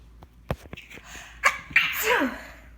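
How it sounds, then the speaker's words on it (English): A person sniffs and gasps a few times, then lets out a loud, close sneeze. "Oh, I'm gonna sneeze."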